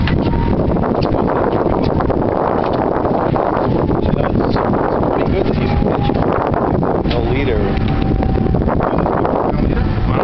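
Heavy, constant wind roars and buffets the microphone aboard a Captree fishing charter boat off the South Shore, a loud, unbroken rush with muffled voices faintly beneath it.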